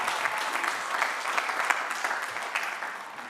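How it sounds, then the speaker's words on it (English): Commencement audience at a university graduation applauding, a broad, sustained wash of many hands clapping, fairly loud and even, tapering slightly toward the end. "Give all of them a round of applause."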